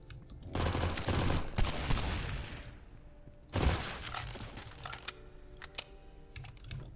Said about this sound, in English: I'll use the Tommy gun. Give it some action.